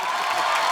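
Studio audience at a Hindi comedy talk show gives a short, dense burst of applause and crowd noise, brief and continuous with no distinct voices.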